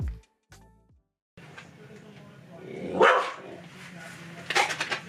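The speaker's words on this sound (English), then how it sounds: "My dog legitimately barked at me because I was wearing a wig." A pet dog named Ollie barks at its owner indoors, a few sharp barks after brief bursts and silence, the loudest bark in the middle and a quick volley of barks near the end.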